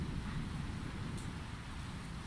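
Light rain keeps falling in a faint, continuous patter and hiss, steady and even, with no one speaking.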